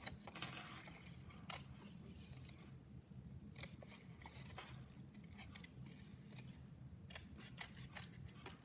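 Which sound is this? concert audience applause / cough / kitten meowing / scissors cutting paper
scissors cutting paper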